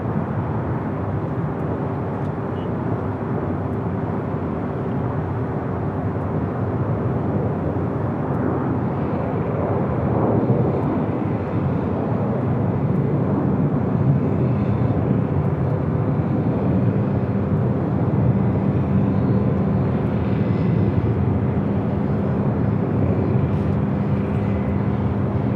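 An airliner flying near LAX airport in Los Angeles, a steady broadband jet roar that swells slightly midway, continuous and fairly distant with no voices.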